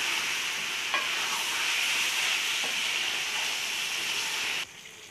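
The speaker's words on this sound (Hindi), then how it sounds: "अब हम इसकी थोड़ी भुनाई कर लेंगे सब्जियों की" Mixed vegetables with capsicum roast in a pan with a loud, continuous sizzling hiss and a couple of faint stirring knocks, then the sizzle suddenly drops away near the end.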